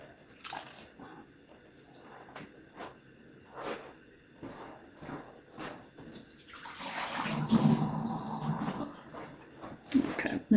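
Water is emptied from a container of pickling cucumbers into a kitchen sink, heard as intermittent splashes and clunks that swell into a sustained close pour before tapering off, with no talk.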